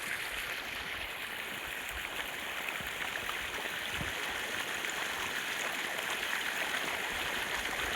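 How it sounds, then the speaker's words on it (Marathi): Irrigation water runs through a guava orchard as a steady, soft rushing and trickling wash that carries on evenly with no other sounds standing out. "तर पाणी चालू आहे."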